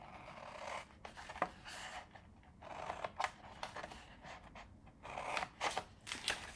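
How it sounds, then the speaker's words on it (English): Scissors cutting a paper gift box template up to the score line, heard as quiet, intermittent crisp snips and paper rustles in short bursts. "Same thing on this side, cut up to the score line."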